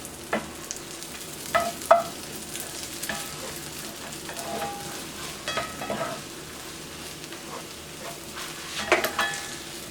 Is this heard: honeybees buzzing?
no